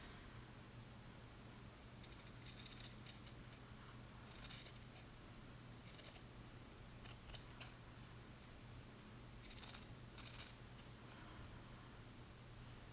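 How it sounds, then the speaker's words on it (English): Scissors snip through fabric while mending a garment, a few quiet clusters of crisp cuts at irregular intervals over a steady low hum, with no talking. "I'm going to cut that out."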